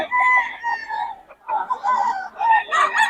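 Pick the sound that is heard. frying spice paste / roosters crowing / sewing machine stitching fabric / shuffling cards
roosters crowing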